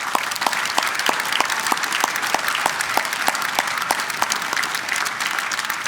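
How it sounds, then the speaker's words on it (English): A commencement crowd applauds graduating university students, producing steady, sustained clapping with a strong rhythmic clap near the microphone cutting through the dense applause. "Let's give them all a round of applause."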